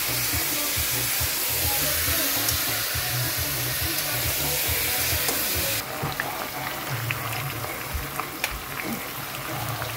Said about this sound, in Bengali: পেঁয়াজটা কষাতে দিলাম